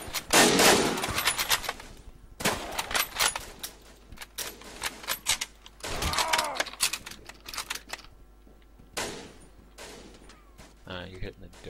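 Rapid machine gun bursts crack out in the World War I shooter No Man's Land, several loud rattling volleys separated by short pauses, with a player talking between and over the firing.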